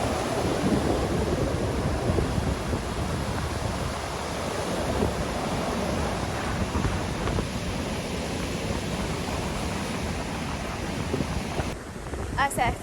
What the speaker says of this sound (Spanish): tenemos el mar abierto con unas olotototototas enormes